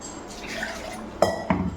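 Ground black pepper rasam mixture is poured into a pot holding rock salt and turmeric, giving a short wet splash and clink of metal vessels, close and fairly loud.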